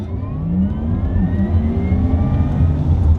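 A Porsche Taycan electric car pulls away, a steady rising whir building as it drives off, close and fairly loud with no talk over it.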